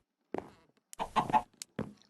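A Minecraft chicken clucks in short, clean bursts, four or five close game-sound clucks separated by silence, with no talk over them.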